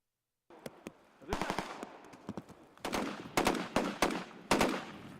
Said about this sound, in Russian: Взрывы, выстрелы